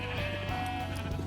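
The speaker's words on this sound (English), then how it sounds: "I'm gonna go shave some sheep." Sheep bleat steadily in a farming video game, a close, continuous wavering call with a steady pitched tone underneath, heard alone without talk.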